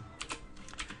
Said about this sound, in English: My keyboard makes new noises now. I've got a new keyboard.